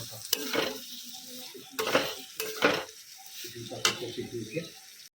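Egg curry stirred and fried in a pan, several sharp scraping stirs in a steady rhythm over a soft sizzle, close by.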